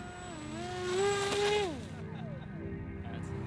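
Small foam radio-control-style UAV drone plane throttling up: a buzzing electric motor whine rises in pitch, holds, then drops away as it flies off, faint and distant under light outdoor noise.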